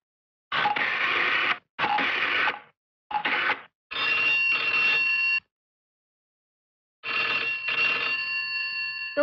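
A telephone bell rings loudly in repeated bursts, with short gaps between rings and a longer pause before a final sustained ring, heard alone without talk.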